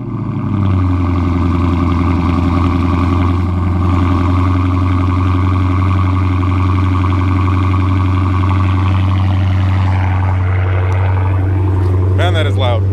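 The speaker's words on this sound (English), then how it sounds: "So let's start with the nice cold start." A 485 hp car's engine fires on a cold start and settles into a loud, steady, deep idle drone that holds throughout.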